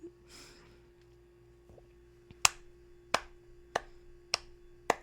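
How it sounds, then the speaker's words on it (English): A single person claps their hands in a quiet room, sharp isolated claps spaced about a second apart, close and crisp over a faint steady hum, with no talking. "I hope you can hear my clapping."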